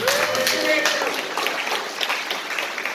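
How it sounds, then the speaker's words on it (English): Audience applause at a parent conference keynote fills the space with a dense, steady wash of clapping, while a voice carries over the top. "Let's round of applause for this mom right here."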